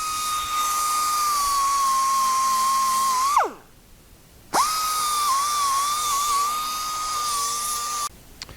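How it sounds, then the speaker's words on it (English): A Chief 1/4 inch 90-degree air angle grinder works a casting, whining at a high steady pitch with hissing air. It winds down and stops for about a second, then spins back up to the same whine before cutting off. "this was a review of the Chief 1/4 inch 90-degree angle grinder"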